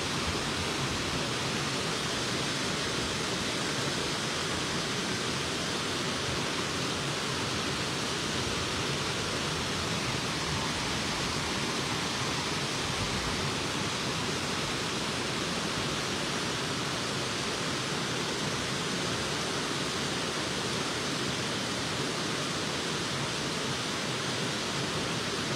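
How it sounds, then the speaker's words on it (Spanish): A river waterfall in Jiquilpan pours in a steady, dense, broadband rush of falling water that stays constant and loud throughout, with no voices over it. "se oye siempre el agua cuando hay una caída"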